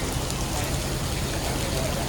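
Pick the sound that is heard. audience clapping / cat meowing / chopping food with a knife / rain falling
rain falling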